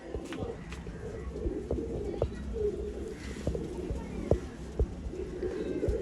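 Pigeons of an old-line breed cooing close by in a loft, soft low repeated coos with occasional sharp clicks and wing or foot sounds, and faint voices in the background.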